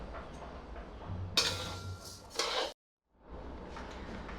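Dry grain being stirred in a pan while roasting for thalipeeth bhajani flour, a steady scraping rustle with a louder burst of stirring, a short silent break, then the rustling resumes.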